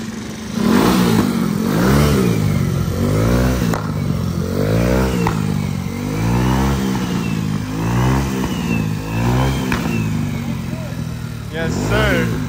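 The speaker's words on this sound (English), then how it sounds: "Everybody hear a cold start real quick?" A car engine cold-starts and revs at an indoor mall car meet, loud and near, with repeated rising and falling revs over the whole stretch and crowd noise underneath.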